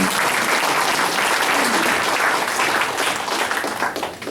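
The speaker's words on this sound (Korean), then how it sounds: "박수 한번 부탁드립니다" Loud, dense applause from a church congregation at a breakfast worship service, steady throughout and tapering slightly at the end.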